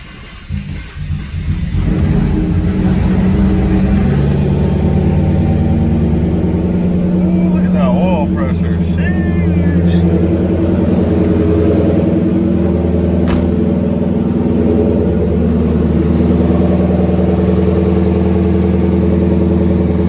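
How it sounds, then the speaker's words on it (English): Turbocharged Ford Coyote V8 in a 2018 build firing up for the first time, cranking briefly then catching into a loud, steady running rumble with a rev, while people talk faintly underneath. "Let's go ahead and try to crank this thing up."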